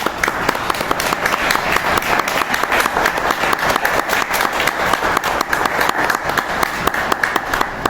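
Sustained, dense applause from a lecture audience welcoming a speaker at a history talk, steady clapping filling the room for the full stretch without pause.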